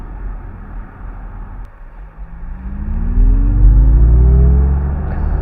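A 2025 MG Cyberster all-wheel-drive electric car accelerates hard, its low rumble and electric whine rising steadily in pitch and growing louder over a few seconds, heard from inside the cabin with no talking.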